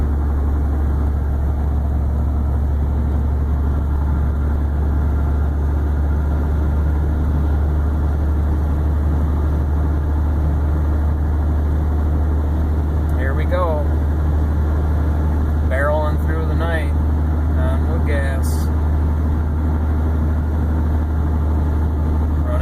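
A vehicle running on 100% woodgas drives along, its engine a steady low drone with road hum throughout, while brief voices surface partway through.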